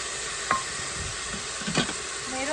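Rice simmering with tomato sauce in a pot is stirred close up, soft scrapes and a couple of spoon knocks over a continuous sizzle, no talking.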